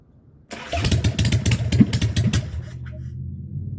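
A 1981 Harley-Davidson Ironhead hardtail motorcycle fires up close by, barking loudly in uneven rapid pulses for about two seconds before dropping to a lower, steady idle.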